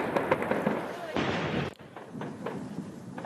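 Gunfire rings out as gendarmes and terrorists exchange shots during a police assault, sharp cracks and blasts in quick bursts, one heavy report mid-way, with echoing noise around them.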